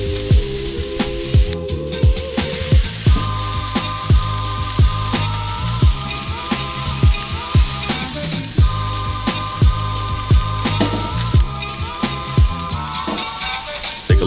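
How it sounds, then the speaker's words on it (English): Fish kebabs sizzle on a hot barbecue grill, a loud continuous frying hiss close by, punctuated by regular clicking and tapping knocks roughly every second. "Our grill's nice and fired up."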